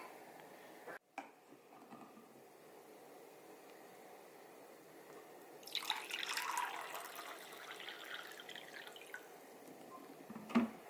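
Water from a filter pitcher dripping and splashing, a faint steady trickle that swells into a louder pour midway before easing off, with a sharp tap near the end.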